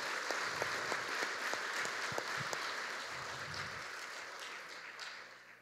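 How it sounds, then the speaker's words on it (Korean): Church congregation applauding during a Korean worship service, a steady patter of many hands clapping that gradually fades away, with low background rumble beneath. "그동안 수고하신 이분들에게 큰 박수 좀 부탁 좀 드립니다."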